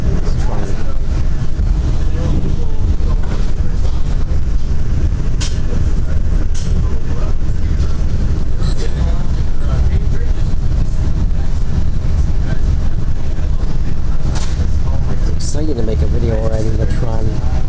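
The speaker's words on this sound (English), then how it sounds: "I made a video while riding this trolley." Metra Electric commuter train riding into Millennium Station in downtown Chicago, heard from on board as a steady loud rumble of wheels and motors with rattles and clicks of the car, a voice talking over it.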